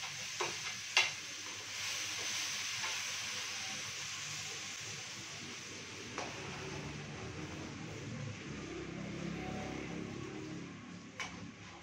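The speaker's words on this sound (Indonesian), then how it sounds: "Pertama kita tumis dulu bawang putih." Garlic sautéing in a pan as a first step for Padang soto spice paste, giving a steady close sizzle with a few sharp utensil clicks and scrapes near the start and again later; no talking.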